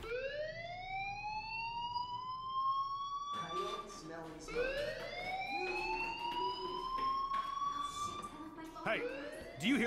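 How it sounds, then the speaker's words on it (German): A fire alarm sounds in the video game Life is Strange, a loud repeating rising electronic wail that keeps cycling over several seconds, with game sounds and movement around it. "Do you hear that fire alarm? That means you should be outside."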